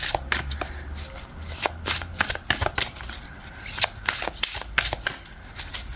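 Tarot cards are shuffled by hand close up, a dense run of crisp flicks and riffling snaps that keeps going for several seconds with brief pauses.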